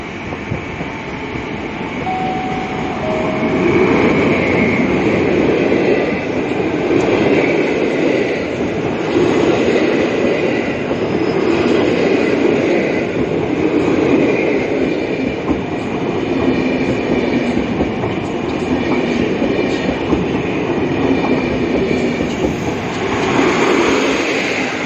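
A train rumbles steadily at Bydgoszcz Główna station, loud and continuous for the whole stretch, with a broad wash of rolling and rail noise and no talk.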